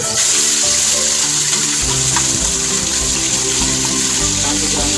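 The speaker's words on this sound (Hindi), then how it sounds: "आपने ऑयल को गर्म करके उसमें बीफ डाल देना है।" Loud, continuous sizzling of beef frying in hot oil in a pressure cooker, a steady crackling hiss with no talking.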